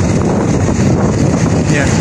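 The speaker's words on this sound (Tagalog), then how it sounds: "Talagang malakas yung hangin oh" Strong wind buffeting the microphone outdoors in intense heat, a loud, continuous low roar and rumble with no letup, no voices heard over it.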